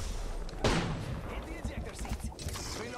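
Apex Legends gunfire, with a sharp loud shot followed by scattered quieter impacts and bursts under the noisy clutter of a match, while a voice talks over parts of it.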